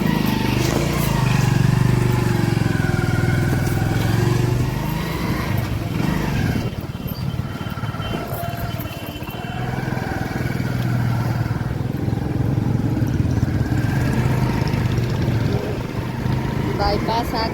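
A motorcycle rides along a bypass road toward a temple, its engine a steady, fairly loud drone with wind rumble that runs the whole way, dipping briefly in the middle.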